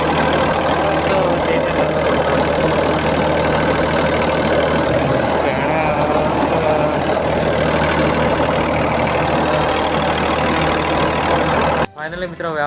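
A tractor fitted with a pesticide sprayer runs on a pomegranate farm, its engine giving a loud, steady, close rumble without pause until it cuts off abruptly near the end.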